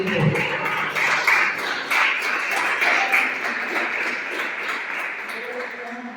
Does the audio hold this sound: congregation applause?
yes